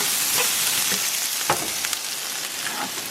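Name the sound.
garlic frying in a pan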